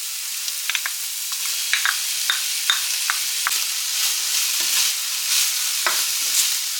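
Peppers and meat fry in a pan, a bright close sizzle with repeated short crackles and pops, plus a few stirring scrapes near the end.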